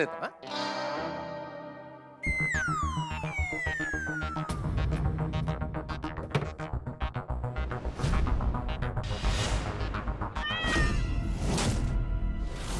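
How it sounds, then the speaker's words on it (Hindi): A cat meows repeatedly, several distinct cries heard over busy background sounds with warbly, effect-like processing. "बिल्ली की आवाज सुनी तुमने फिर?"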